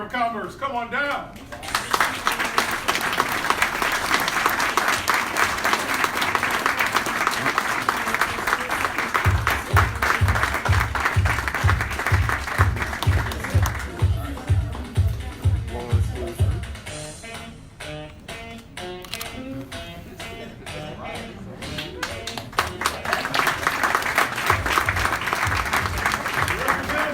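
A crowd applauds Aurora Regional Chamber of Commerce and Quad County African American Chamber of Commerce representatives at a Small Business Advocate award ceremony. The clapping is loud and sustained for the whole stretch, with talk and a low rhythmic beat underneath partway through.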